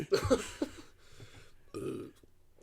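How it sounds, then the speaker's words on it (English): A single loud close burp followed by a shorter second belch, then quiet. "Excuse me. Burp."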